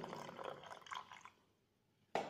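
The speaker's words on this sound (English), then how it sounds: "Just I am adding water" Water poured from a small vessel into a 100 ml beaker during a potassium permanganate solution demonstration, a steady splashing pour that tapers off into quiet, followed by a sudden brief clink or splash at the end.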